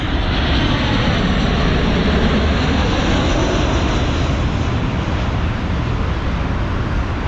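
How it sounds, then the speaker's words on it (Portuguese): A loud, steady roar of an airplane's engines fills the air without letup, close and powerful as the aircraft comes in to land in São Paulo, Brazil. "E eu vou gravar um avião pousando aqui"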